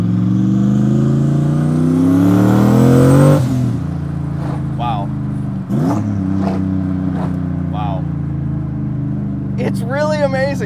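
A single-turbo 1999 Ford Mustang GT accelerates hard on back roads, its engine note climbing steeply in pitch for about three seconds, then holding a loud, close, steady drone with a few brief clatters.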